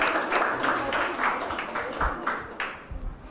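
A quiz-show audience bursts into applause for a correct answer, a dense wash of mixed claps at moderate distance, fading slightly toward the end.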